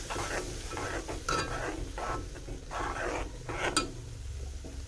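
Spice paste fries in oil in a pot for a potato dum curry, giving a close, soft sizzle with intermittent stirring scrapes and clinks from the utensil, no talking.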